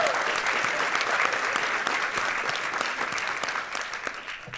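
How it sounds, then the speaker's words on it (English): An audience at a university graduate nursing pinning ceremony gives a round of applause, a steady, moderately distant wash of clapping with sharp individual claps standing out, softening slightly toward the end. "Another round of applause for them"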